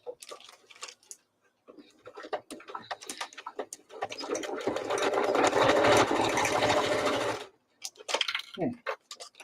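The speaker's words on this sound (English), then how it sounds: "Here's where we're going to sew diagonally." Sewing machine stitching fabric diagonally, a steady whirring run of a few seconds in the middle, with talking before and after it.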